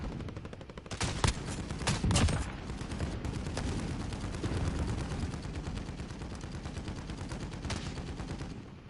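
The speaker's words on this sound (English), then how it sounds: "Oh, that's what was shooting." Sustained gunfire in Call of Duty: Modern Warfare, dense bursts and sharp reports layered over continuous battlefield noise for the whole stretch, with a couple of louder close shots near the start.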